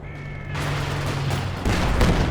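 Gunfire and artillery pound a base in a Company of Heroes 2 match, with dense overlapping shots and booms that swell into a heavier barrage.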